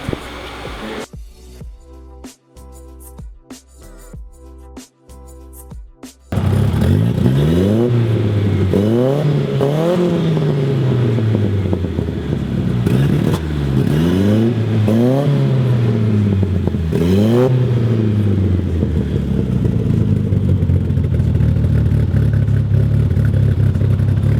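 Datsun 240Z fitted with an SVO engine revs hard through a newly made side pipe, several rising and falling revs after an uneven idle, loud and close with no talk.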